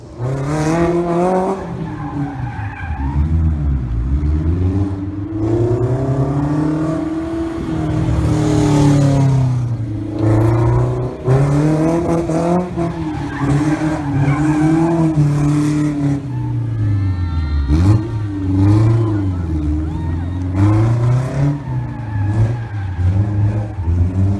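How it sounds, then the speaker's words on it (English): A mid-engine, rear-wheel-drive sports car spins donuts, its exhaust rising and falling through repeated revs while the tires squeal and skid in long, loud sweeps with no voices. "this car's not only fantastic exhaust note from the variety of powertrains offered, but also showing off some pretty cool rear-wheel drive mid-engine donuts"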